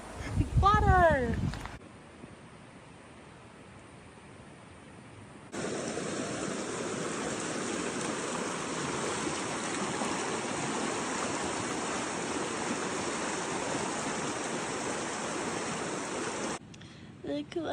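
A small water stream flows beside the Pacific Crest Trail, a steady rushing babble that starts partway in and runs evenly for about ten seconds, after a brief voice sound and a quiet stretch at the start.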